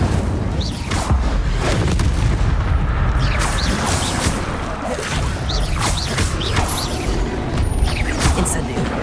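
Repeated booming fire explosions from Confringo and Incendio spells in the Hogwarts Legacy video game, loud and continuous with a dense low rumble, under rapid shouting as a player calls out spells.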